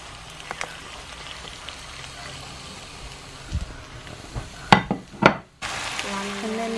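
Chopped tomatoes stirred as they fry in a pan for a carrot and courgette sauce, a steady low sizzle broken by a few sharp spoon scrapes and clacks near the end, with no talking.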